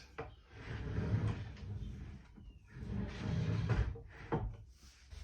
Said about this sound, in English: It's the last drawer in, so it looks like a full-size drawer.